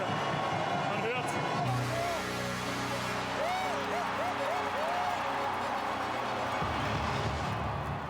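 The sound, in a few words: crowd cheering at a timbersports competition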